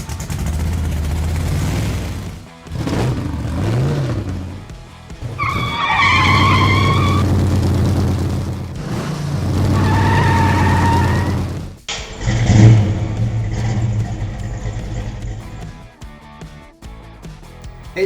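Cars driven out of sand into a car park, with repeated bursts of skidding and revving engine-like noises spread over about eighteen seconds, loud and close.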